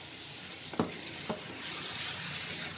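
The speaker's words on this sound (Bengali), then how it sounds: "এটা দিয়ে এবার নাড়তে থাকবো। এটা ভাজা ভাজা হয়ে গেলে তখন মশলা অ্যাড করবো।" Turmeric and chili masala sizzles quietly in a pan for a fish curry with curd. Two distinct spoon scrapes break the faint, steady frying hiss.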